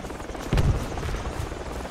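Helicopter flying in the tactical shooter game Project Reality after being hit by flak, a steady whirring rotor drone at moderate loudness with a brief louder thump partway through, no talk.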